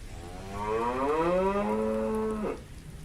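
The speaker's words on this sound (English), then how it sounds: "this clip of her mooing at live cams for someone to donate" Cow mooing in front of a live cam, a single long, drawn-out moo of about two seconds that rises and then falls before stopping abruptly, clear and close over faint background noise.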